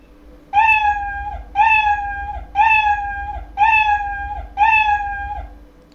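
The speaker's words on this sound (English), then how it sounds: "go to the sound block and use this play sound meow" A cat meows five times in a steady, evenly spaced rhythm, each meow loud, clear and drawn out, with no other voices.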